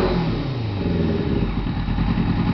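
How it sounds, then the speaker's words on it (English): A 2009 Yamaha R6 motorcycle engine misfires and runs unevenly on a missing cylinder, giving a close, steady, rough rumble with irregular clattering pulses and no voices. "It's definitely missing a cylinder."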